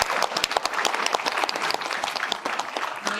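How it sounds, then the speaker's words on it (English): Sustained audience applause in a meeting room, steady clapping from many hands for about three seconds at moderate volume, with no talk over it. "could we get a round of applause?"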